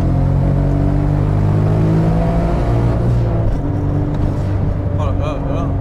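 A 1400 hp Porsche 9FF tuned car accelerates hard, its engine note rising in a loud, steady climb through a long pull from the cabin, with excited voices talking over it.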